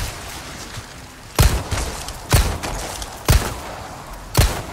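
Four loud, evenly spaced gunshots ring out in the Resident Evil 4 Remake video game, each a sharp boomy crack about a second apart over a low background hum.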